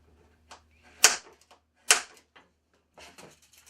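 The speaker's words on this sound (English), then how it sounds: "And I'm using a center punch" A center punch is struck against round stock to mark a drilling point, giving two sharp metallic taps about a second apart, with a few softer clicks around them.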